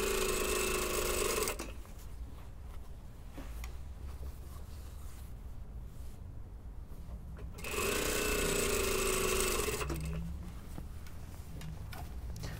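Sewing machine stitching a waistband onto a skirt: two bursts of fast, buzzing mechanical stitching, each a few seconds long, separated by quieter handling sounds, fairly faint and without talk.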